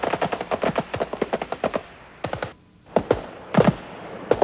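Rapid machine-gun bursts crack out during Turkish commando ambush training, first as dense, close, loud volleys, then a brief silence, then scattered single shots and short bursts.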